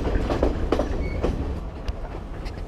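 Passenger train on the Ella to Nuwara Eliya line in Sri Lanka's mountains, heard from inside the carriage: a steady, loud rolling rumble with rhythmic clickety-clack of wheels on rail joints and occasional sharper knocks, no voices.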